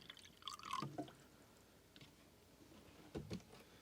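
Fresh water is poured into a watercolor painter's rinse container, heard as a short, quiet burst of splashing and dripping, followed by a few fainter liquid sounds and clicks, with no talking.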